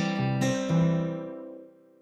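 A short fingerpicked acoustic guitar pattern: a few plucked notes in quick succession, then a final note left to ring and fade out.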